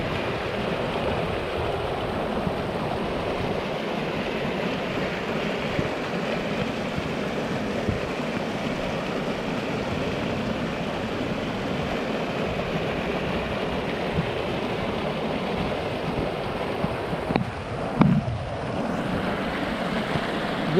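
Powerful floodwater in Kenya rushes over big rocks in a dense, steady roar that fills the whole stretch, loud and close, with a brief bump near the end and no voices.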